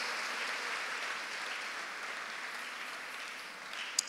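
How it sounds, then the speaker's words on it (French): A church congregation at a Sunday service applauds the Lord with steady, even clapping. The applause holds at a moderate level from start to finish and fades slightly near the end. "On peut acclamer le Seigneur et reprendre notre place."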